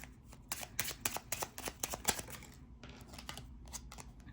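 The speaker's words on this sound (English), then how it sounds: "I literally shuffled and I got 2 of the same cards." Tarot cards are shuffled by hand in a rapid series of crisp riffling snaps and slaps, close and fairly quiet, with a short pause before a few more bursts.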